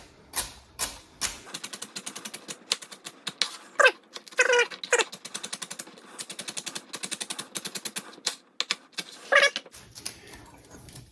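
A knife slices a celery stalk into quarter-inch pieces in quick, steady, sharp chops close by, in bursts with brief pauses between them.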